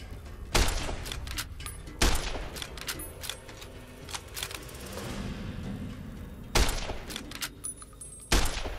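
Gunfire in Fallout: New Vegas: four sharp, loud shots spaced a couple of seconds apart, with fainter clatter and rumble between them and no talk.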